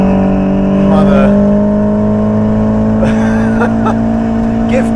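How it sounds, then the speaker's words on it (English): A Ferrari 488 Pista, a turbocharged car fitted with a Novitec exhaust, gives off a steady loud engine drone with a low humming exhaust note, and a voice talks over it throughout. "listen to that exhaust system"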